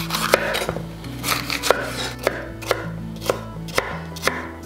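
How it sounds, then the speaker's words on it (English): A red chili being roughly chopped on a board, a brisk series of sharp knife knocks in an uneven rhythm, close and clear, with faint background hum and no talking. "We're gonna roughly chop a red chili and add it into a large bowl"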